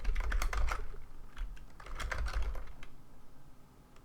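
Rapid typing on a computer keyboard during data analysis work, with bursts of close, crisp key clicks separated by short pauses, fading to lighter taps near the end.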